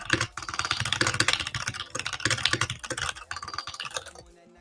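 Quick bursts of keystrokes on a computer keyboard in a TypeRacer race, close and crisp, clattering in uneven rapid runs for about four seconds before stopping.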